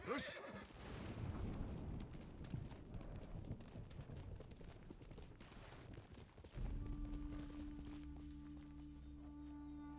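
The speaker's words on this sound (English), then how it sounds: "There's a horse over there." A horse in the video game Ghost of Tsushima lets out a loud whinny at the start, then hoofbeats and rough ambient game noise follow, with a sustained tone entering partway through.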